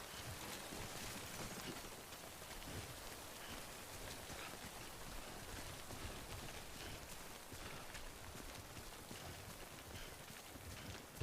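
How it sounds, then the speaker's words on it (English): Steady rain falling in the game Death Stranding, a dense even hiss of drops on surfaces, continuous and moderately loud with no pauses. "Alright, so while it's raining, my canteen's going on."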